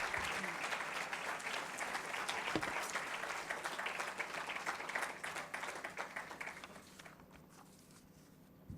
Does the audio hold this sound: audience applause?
yes